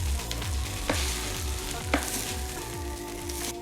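Rice sizzles steadily in a hot pan, with scraping stir strokes and a couple of louder crackling bursts.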